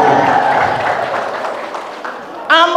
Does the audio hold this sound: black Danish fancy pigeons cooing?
no